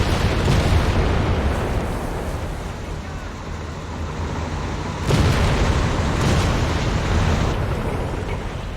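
Heavy bombing explosions in Company of Heroes 3 produce a dense, continuous rumble of booms, with a fresh loud blast around the five-second mark rolling into sustained low thunder.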